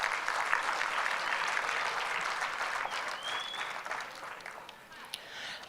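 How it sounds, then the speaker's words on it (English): A conference audience claps steadily, a sustained even round of applause that tapers slightly near the end, with faint voices mixed in. "Let's give them a good round of applause"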